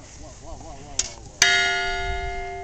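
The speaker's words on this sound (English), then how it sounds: "What's that hammer sound like on the bell?" A newly installed bell is struck once with a hammer after a person speaks, giving a bright metallic clang that rings on with a sustained, slowly fading tone; a faint earlier tap precedes it.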